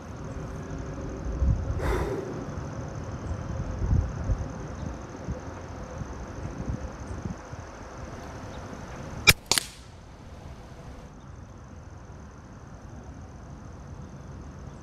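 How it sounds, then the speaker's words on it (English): An AEA HPSS .25 caliber air rifle fires a single sight-in shot with a sharp, close crack and a quick second snap just after, set against a quiet outdoor background. "I'm gonna do one more sight-in shot"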